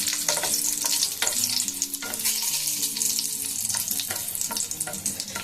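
Two dried red chillies, split down the middle, hit hot oil beside onions in a pan, giving a loud close sizzle with stirring clatter throughout.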